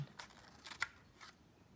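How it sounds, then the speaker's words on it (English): Child-sized scissors cut paper slowly along a line, with three or four quiet separate snips and crisp paper crunches spaced out over a near-silent background. "I'm making my scissors open and close."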